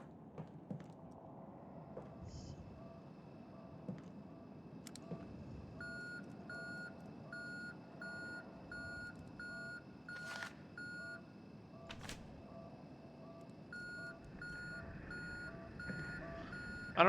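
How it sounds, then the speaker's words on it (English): A steady series of high electronic beeps repeats at an even pace in the video game Conarium, faint and mechanical over a low ambient hum, with a few sharp clicks and no talking. "I don't know what that beeping means"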